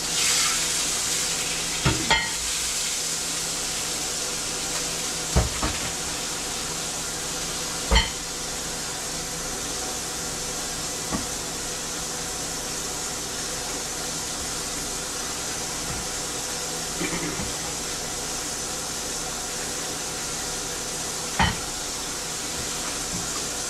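Pancake batter sizzles in a frying pan after bacon, a steady close hiss with occasional sharp knocks and clinks of utensils over the continuous frying noise.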